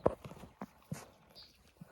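A few soft, muffled hoof clops of horses walking on snow at an uneven pace, close by and fairly quiet, with no voices.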